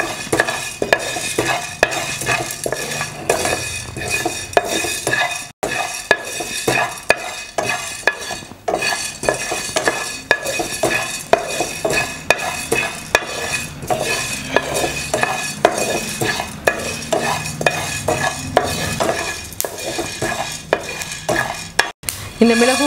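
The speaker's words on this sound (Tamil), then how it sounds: "இந்த மிளகும் அதே மாதிரி வறுத்து எடுத்துக்கணும்." Black pepper dry-roasts in a pan as a utensil stirs and scrapes it continuously, with a light crackling sizzle, close and steady for a long stretch with no talking.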